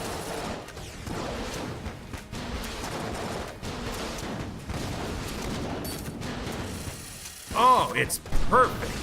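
Rapid, rattling gunfire from the Stinger weapon in Enter the Gungeon during a boss fight, a dense stream of mechanical shots under game music, with a brief spoken voice near the end.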